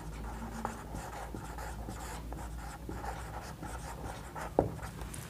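A pen scratches across paper as someone writes out a quadratic equation by hand, with soft, steady strokes and a sharper tap or two near the end.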